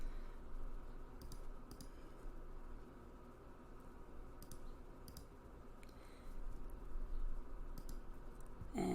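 Faint, scattered clicks of keys being pressed on a TI-84 graphing calculator, irregular taps over a quiet hiss with no talking.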